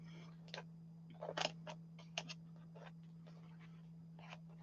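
Quiet snipping and crinkling as Teflon scissors cut through sticky material, a few irregular cuts over a steady low electrical hum.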